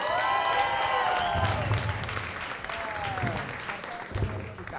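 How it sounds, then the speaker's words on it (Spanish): Studio audience applauding and cheering as guest Adrián Parada arrives on a Spanish-language talk show set, a steady crowd wash with voices and whoops mixed in throughout. "¡Un aplauso para Adrián Parada!"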